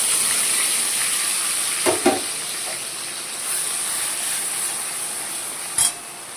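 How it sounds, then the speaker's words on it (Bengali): Spice paste sizzles steadily in hot oil for chicken rezala, a constant bright frying hiss with a few brief louder pops and clinks of a spoon. "এবার তেলটার মধ্যে এবার দিয়ে দিচ্ছি গোলমরিচ আর গরম মশলা ফোড়ন দিয়ে দিচ্ছি।"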